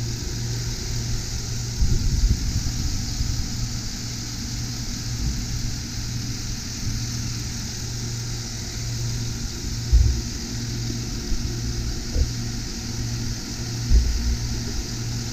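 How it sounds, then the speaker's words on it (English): A 2012 Chevrolet 1500 extended cab 4WD pickup engine running at a steady idle, a continuous low hum and drone with a few soft bumps, heard alone without voices. "Engine's running nice and smooth."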